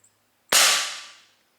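A Gamo P-23 CO2 .177 BB pellet pistol fires one sharp, loud crack that decays over about a second, with no other sound around it.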